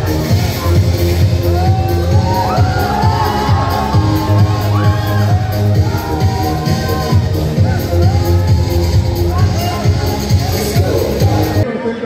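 A crowd at a Valentine's Day event in a shopping mall keeps up steady applause and cheering, loud and continuous, with scattered shouts and voices mixed in until it stops abruptly at the end.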